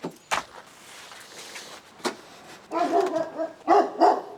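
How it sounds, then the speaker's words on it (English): A dog barks indoors, with a few sharp single barks early on followed by a louder cluster of barks toward the end, while small household knocks sound in between. "That dog is barking at me for grabbing my grapes."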